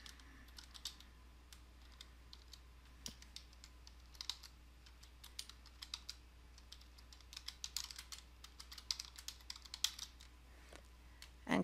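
Continuous clicking of keys on a computer keyboard as a folder name is typed, irregular bursts of taps at close range with no talking.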